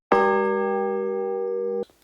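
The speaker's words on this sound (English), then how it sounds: "ring that notification bell so you won't miss any of our great videos" A notification bell sound effect: one bright chime struck loudly and held as a steady, ringing tone for about two seconds before cutting off abruptly.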